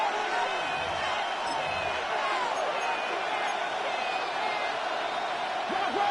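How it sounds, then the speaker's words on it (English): The Buffalo Bills home crowd at an American football game roars in a loud, sustained wall of noise from a packed stadium, steady throughout with no letup. "This Buffalo crowd letting them have it."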